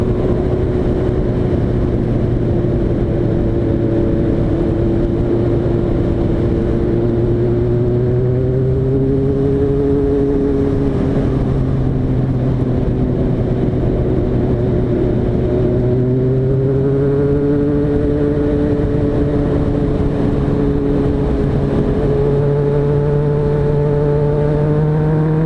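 A Kawasaki ZRX motorcycle ridden on a road, its engine droning loud and close with a steady note that rises and falls through gear changes, and no talking.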